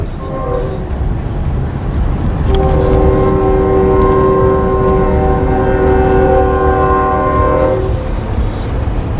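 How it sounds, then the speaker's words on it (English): A train rumbles past with a loud, sustained horn blast over the steady roar of the cars, heard from nearby. "Looky at the choo-choo train."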